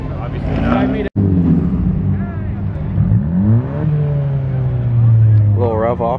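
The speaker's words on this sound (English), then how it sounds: "A little rev off right here." A car engine revs at a car meet, rising and falling under steady crowd noise and nearby voices, with a brief higher rev near the end.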